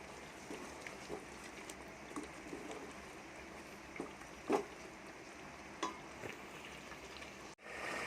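Spice masala with black pepper and turmeric roasts in a pan for village-style chicken, a quiet low sizzle with intermittent scraping and tapping of a stirring spoon, close but soft, with no voices.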